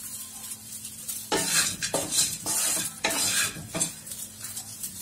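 Mani kozhukattai, small rice-flour dumpling balls, being sautéed and stirred in a pan: steady sizzle with repeated scraping and clattering strokes of a spoon against the metal, fairly close, no voices.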